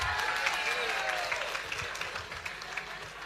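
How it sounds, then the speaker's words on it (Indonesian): A seminar audience breaks into brisk applause, a dense, fairly close spread of many hands clapping at once, holding steady for a few seconds before thinning slightly toward the end. "Yang setuju tepuk tangan."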